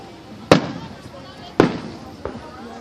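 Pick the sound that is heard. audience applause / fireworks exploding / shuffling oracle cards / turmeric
fireworks exploding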